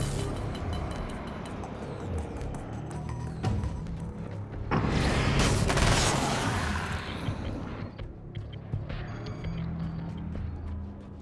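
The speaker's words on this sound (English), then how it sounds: "This SMG is really pulling its weight, though." An SMG in Alan Wake's American Nightmare fires rapid bursts amid crackling impacts and a loud swelling blast in the middle, set against a dense, noisy backdrop of game effects.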